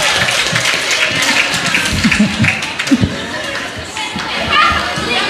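A crowd claps for two debate groups at an Indonesian religious debate event, loud applause mixed with chatter and children's voices.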